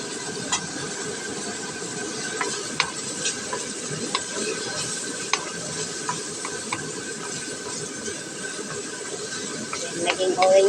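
Shrimp and bamboo shoots stirred in a hot frying pan give a steady, even sizzle and hiss, with scattered light clicks and scrapes of the utensil against the pan.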